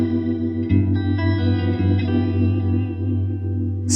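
An electric instrument runs through an Electro Harmonix Lester K rotary speaker pedal set to its fast speed, producing a thick, shimmering sustained chord with rapid warbling modulation, played loud and alone.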